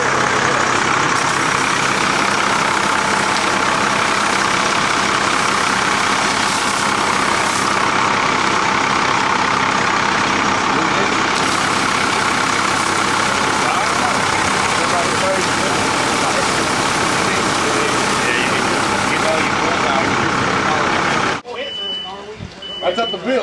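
An old fire engine, about to be retired, idles steadily with a loud, constant low engine drone during a new fire truck anointment, then cuts off abruptly near the end, leaving quieter background sounds.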